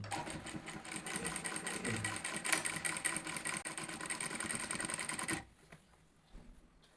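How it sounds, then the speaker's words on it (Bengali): A sewing machine stitching a round neck front-button nighty, its rapid even needle clatter running steadily close up for about five seconds before stopping abruptly, followed by quiet handling sounds. "তো দেখুন কিভাবে সেলাই করছি"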